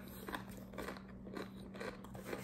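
Doritos chips are bitten and crunched close to the mic, with several crisp, crackling chews in a quiet room over a faint steady hum.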